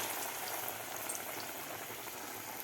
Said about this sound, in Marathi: आता त्या पिठामध्ये आपल्याला एक एक वडे बुडवून तळायचे आहेत